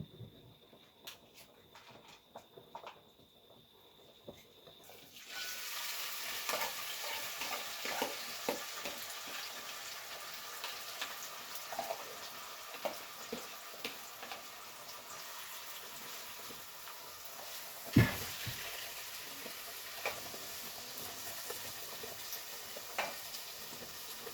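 Thyme, onion, garlic and hot Jamaican pepper frying in a pot, a steady close sizzle that begins after a few quiet seconds and carries on with occasional stirring clicks and knocks.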